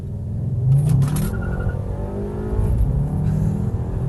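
A quick car with a $30,000 price tag accelerates hard from inside the cabin, its engine note rising steadily and loud over about four seconds with no talk.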